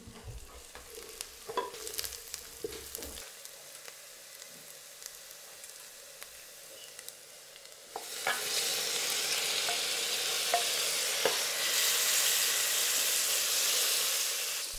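Hot chili pepper hits the pan with a few scraping stirs, then a loud, steady sizzle of frying takes over for the rest of the clip, with no talking.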